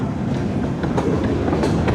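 An amusement park train ride at Blackpool Pleasure Beach gives a loud, close, continuous rumble with rhythmic clickety-clack from the wheels and track. No voices are heard over it.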